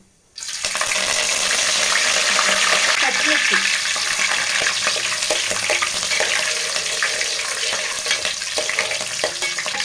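Fennel seeds and curry leaves hit hot oil for a small-fish curry, setting off a loud, sudden sizzle that holds steady with scattered pops and spatters for several seconds.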